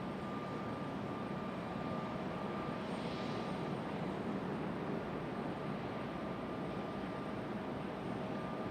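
An airplane on final approach for landing at Raleigh-Durham International, crabbing into an easterly crosswind in the evening, gives a steady, distant engine rumble that holds evenly throughout with no voices.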